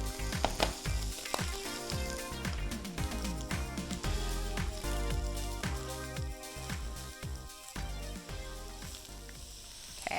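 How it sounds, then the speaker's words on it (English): Onion and garlic sautéing in a stew pan, a steady close sizzle with bursts of crackle and occasional stirring scrapes throughout. "After the onions have sauteed for a little bit"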